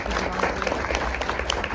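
Audience applause fills a school theatre show, a dense, close wash of many hands clapping at once, steady and loud for the whole short stretch with a few sharper claps poking through.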